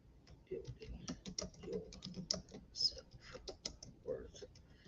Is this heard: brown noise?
no